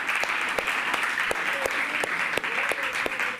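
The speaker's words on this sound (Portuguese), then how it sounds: "Dê uma salva de palmas ao nosso Senhor Jesus." A church congregation applauding together, a dense steady roar of clapping with sharper individual claps standing out throughout.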